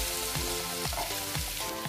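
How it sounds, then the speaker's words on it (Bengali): Turmeric and dried red chili powder fry in oil in a pan, a steady sizzle with soft stirring scrapes repeating about every half second under faint tonal hum, with no one talking. "পরিমাণ মতো শুকনো লঙ্কা গুঁড়ো দিয়ে দিচ্ছি। এবার আমি এগুলোকে ভালো করে ভেজে নিচ্ছি।"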